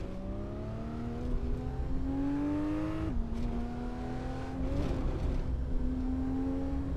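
A car driven on the Joux Verte SS7 stage of the 2024 Mont-Blanc Rally, a steady engine drone with pitch rising in gear, one sharp shift near the middle and faint gravel noise, no talking.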